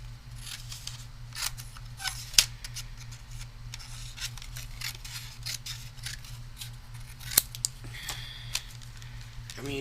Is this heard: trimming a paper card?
yes